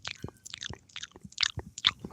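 A person imitates the wet, smacking mouth sounds heard in the word 'moist' with a quick, close string of squishy clicks and chewing-like smacks that lasts about two seconds.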